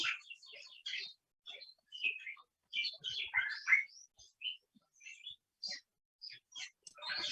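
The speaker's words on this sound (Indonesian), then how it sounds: "burung saya ramai sekali" Pet birds chirp busily indoors, with a rapid scatter of high, bright tweets and short calls in irregular bursts, fairly faint but continuous.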